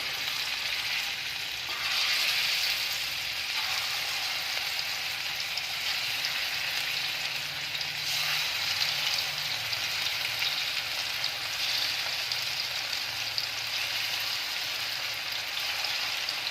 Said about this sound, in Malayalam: ഇത് ഫ്രൈ ചെയ്ത ഓയിൽ തന്നെ നമ്മുടെ ഈ ചിക്കൻ പീസസ് ഓരോന്നായിട്ട് ഇട്ടിട്ട് നമുക്കിതൊന്ന് ഫ്രൈ ചെയ്തെടുക്കണം